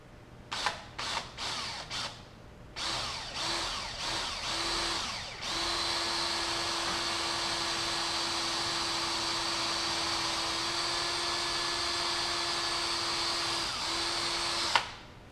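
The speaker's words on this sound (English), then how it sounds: "that's 2 holes drilled" A power drill bores two holes into a Delrin offset bushing on a Mazda NC MX-5 / RX-8 upper control arm: several short trigger bursts, then one long steady whining run that stops near the end, close and loud.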